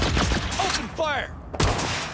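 Bursts of gunfire from the video game Cyberpunk 2077 rattle in rapid volleys, loud and close, with game voices calling out between the shots.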